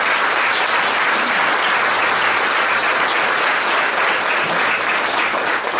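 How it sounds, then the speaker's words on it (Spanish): A church congregation breaks into loud, continuous applause, thick overlapping clapping from many people that stays at an even level for about six seconds. "Un aplauso para estas personas."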